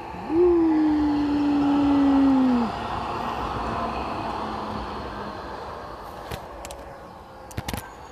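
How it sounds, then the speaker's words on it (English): A tram passing in Leipzig: a long tonal horn-like whine sounds, then a low rumbling rolls by steadily, with a few sharp clicks and clanks near the end. "So there's a tram coming on the left side."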